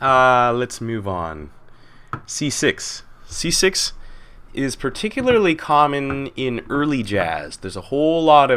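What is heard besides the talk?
No distinct noise like a dog, phone or traffic.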